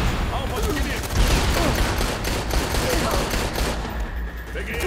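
Dense, continuous gunfire from the Dead Rising 3 zombie video game, a steady rattling barrage filling the whole stretch, with a voice talking over it.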